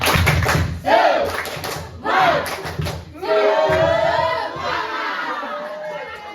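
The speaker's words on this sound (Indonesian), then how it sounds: "Berikan tepuk tangan. Kita tepuk semangat dulu, tambah semangat." Audience of students at a university community counseling session claps in rhythmic unison and cheers, loud, near bursts of group clapping with shouting voices between them.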